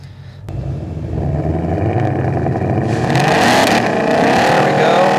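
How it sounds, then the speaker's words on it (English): A 2020 Shelby GT500 holds a line lock burnout, its supercharged engine roaring loud and steady at high revs with a broadband hiss of spinning rear tires that builds and grows harsher in the last seconds, close by and with no talking. "I was able to actually pull away from where I just did that burnout out of the water box."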